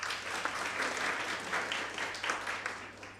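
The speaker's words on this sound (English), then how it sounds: "So please give her another round of applause." Applause from a conference audience after a program segment, steady broadband clapping at moderate level for a few seconds, rising and falling slightly without talk.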